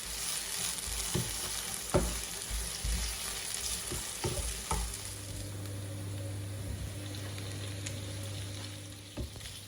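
Steady sizzling of meat frying in a hot pan for Polish bigos, with occasional scraping and stirring clicks, close and continuous.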